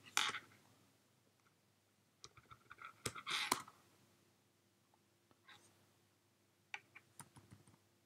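Sharp, sparse clicks from a computer keyboard sound close but quiet in a still room, with a few isolated key presses separated by pauses and small bursts of tapping.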